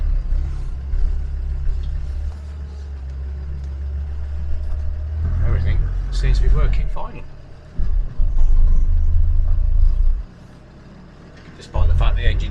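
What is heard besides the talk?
Land Rover 130 Defender driving with cold engine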